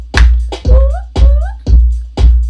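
Drums from a newly produced modern music track: five evenly spaced, punchy kick-and-snare hits with deep booming low end and crisp attacks, loud and upfront, with a short gliding synth tone between beats and no talking.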